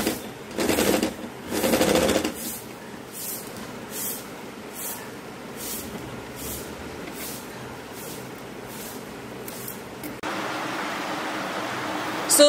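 A sewing machine stitches velvet with a net edge, its needle ticking in a steady rapid rhythm through most of the clip, after two louder whooshing bursts at the start.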